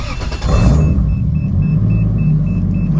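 A 1997 Dodge Viper GTS pulling away after a misfire fix, its engine swelling into a loud, steady low rumble heard from inside the car, with a faint repeating electronic chime.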